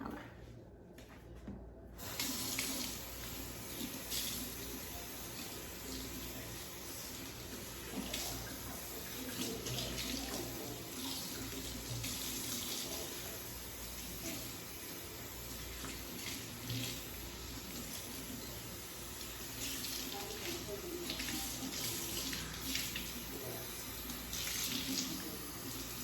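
A tap runs steadily into a sink for about 25 seconds while a raw Indonesian hair frontal is rinsed, with moderate splashing and gurgling that shifts in intensity as the hair is moved under the stream.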